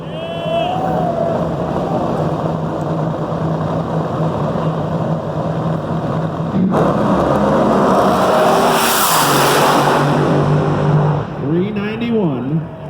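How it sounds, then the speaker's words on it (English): NHRA funny car drag racing at Norwalk, Ohio: a loud, sustained nitro engine roar with a passing surge and fading whine, heard under an announcer's continuous commentary. "John Force is not going to move, but that so far is the best run of the round"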